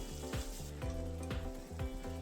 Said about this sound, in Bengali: গাজরটা অনেকটাই নরম হয়ে গেছে আর খুব ভালোভাবে ভাজা হয়ে গেছে